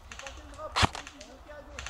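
An airsoft gun fires a single crisp snap in a wooded outdoor game. It is quiet and brief, over faint background noise.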